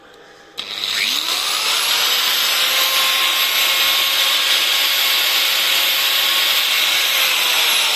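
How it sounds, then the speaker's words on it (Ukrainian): An angle grinder powered through a 1600 W pure sine wave inverter whines up from a click to full speed and then runs steadily, loud and close, with a high motor tone and no talk. "Ось працює булгарка."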